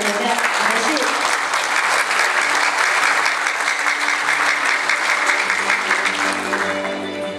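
Sustained applause from a large forum audience welcoming the president of the Taiwan Institute of Economic Research at a biomimetics conference opening, steady and dense throughout, thinning slightly near the end.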